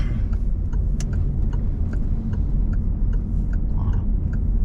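A car's turn signal ticks in a steady regular rhythm inside the cabin, faint clicks over the constant low rumble of the engine and road noise.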